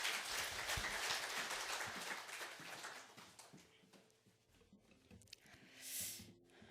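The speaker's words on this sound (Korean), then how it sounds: "우리 이상금 집사님 앞으로 나오실 때 우리 격려의 박수로 환영하겠습니다." A church congregation claps to welcome a deacon coming forward at a Thanksgiving service. The applause is fairly faint and fades out over several seconds, leaving soft scattered room noises.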